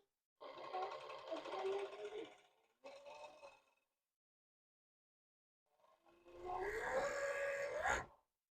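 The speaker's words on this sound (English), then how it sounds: "I use my serger, but you could just use your sewing machine." A serger sewing fabric whirs in two short runs, pauses in silence, then hums again in a longer, louder buzzing burst nearby.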